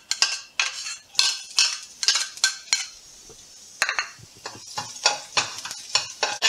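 Garlic and ginger stir-frying in hot oil in a wok for a mustard greens stir-fry: a steady close sizzle broken by frequent sharp clinks and scrapes of a spatula against the metal, with no talking.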